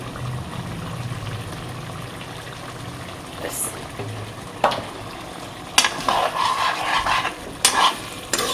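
Poppy seed paste with sugar bubbling in a pan, low thick blips and soft simmering under several scraping strokes of a spoon and a few clattering knocks.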